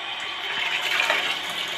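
Water pouring from a pipe into an air cooler, a steady continuous gushing hiss that holds even and close throughout, with no talk.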